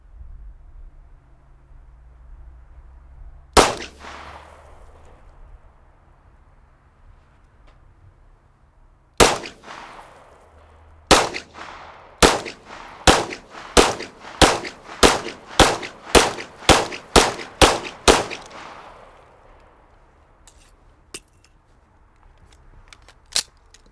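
Pistol shots fired from three yards in a close-quarters shooting drill, with two isolated sharp cracks followed by a fast string of about a dozen loud, evenly spaced shots.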